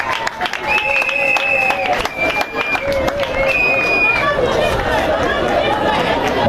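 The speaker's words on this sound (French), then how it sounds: "Applaudissez." At a school scholarship certificate ceremony in Songololo, a crowd claps and chatters, with bursts of scattered applause, some whistling tones and lively background hubbub.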